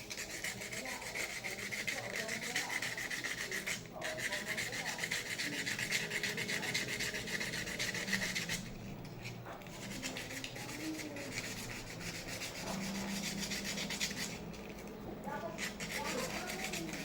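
Sandpaper rubs rust off the sides of a metal wheel center cap in a steady, close rasping scrape that carries on for many seconds with brief pauses.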